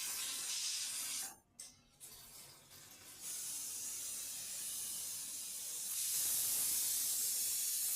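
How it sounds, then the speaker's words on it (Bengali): A pressure cooker whistles while banana stem cooks inside: a loud, steady jet of steam hiss that dips briefly near the start, then returns and swells stronger toward the end. "প্রেসারে সিটি পড়তে শুরু করেছে।"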